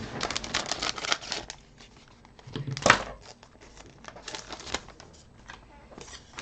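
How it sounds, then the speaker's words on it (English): Crinkly rustling of the plastic packaging around a Holybro X500 V2 drone frame base plate, with a sharp scissor snip partway through, close by, with scattered handling noises around it. "Need some scissors to open."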